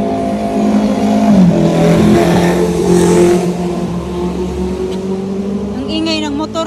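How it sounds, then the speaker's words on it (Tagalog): A motorbike engine drones loudly on a road in the UK, a continuous rumble that swells and eases as it passes, with people talking over it. "ang ingay ng motor."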